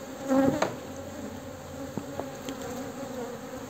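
Honeybees hum steadily at an open hive frame while the hive is being split, a close, continuous buzz with a few louder passes of individual bees.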